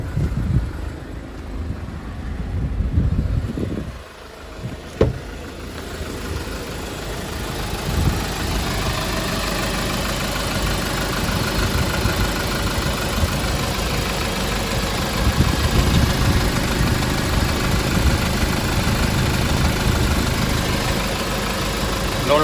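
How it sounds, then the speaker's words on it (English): A 2018 Hyundai Porter 2 refrigerated truck has its diesel engine idling, a steady mid-low rumble that holds even and close for about twenty seconds, following a brief handling noise at the start. "I'll show you engine."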